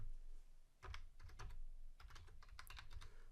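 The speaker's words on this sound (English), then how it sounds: "I just cannot type tonight" Quiet keystrokes patter on a computer keyboard in short irregular bursts, faint and close, with no one talking.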